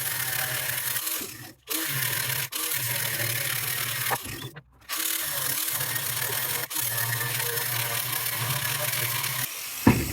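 A handheld angle grinder with no guard cuts through rusty metal on a camper trailer build, a continuous close, harsh whirring grind interrupted by a few short pauses.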